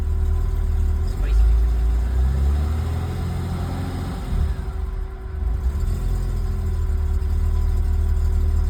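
A BMW E30 engine, just fitted with a new crank sensor, runs at a steady, loud, low idle with a slight rise in revs early on, close by and continuous throughout.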